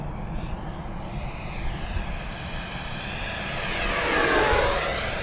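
A radio-controlled Freewing F/A-18E Super Hornet model jet makes a flypast, its electric ducted-fan whine rising and sweeping in pitch as it passes close overhead, loud and steady with no talk.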